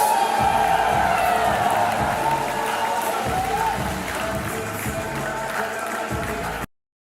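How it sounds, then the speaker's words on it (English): A large company crowd at a launch-week event cheers, claps and shouts for the company president, a dense, loud, steady roar of applause and voices that holds and then cuts off abruptly. "let's make some absolute noise. Get on your feet for the president of this company, Mr. Ben Egan."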